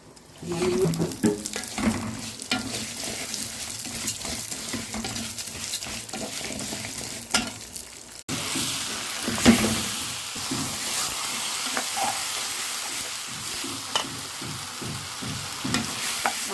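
Vermicelli fries and crackles in a pan for Egyptian koshari, with a steady close sizzle broken by repeated scraping stirs, and a brief gap halfway before the frying resumes.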